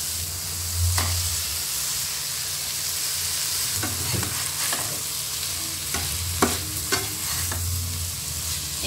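Paneer frying in a pan, a steady hiss of oil with intermittent scraping and clattering of stirring strokes, close and without talk.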